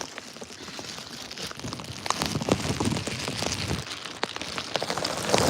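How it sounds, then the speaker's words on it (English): Steady rain patters on surfaces outdoors near an eagle's nest, a dense hiss broken by scattered louder drops that build slightly toward the end. "Still raining a bit."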